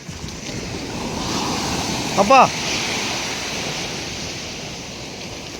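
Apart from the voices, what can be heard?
ocean waves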